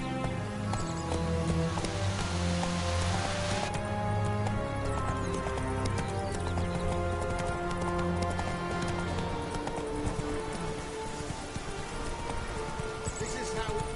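In The Witcher 3, the horse Roach gallops with rhythmic clip-clopping hooves under game music and a voice talking.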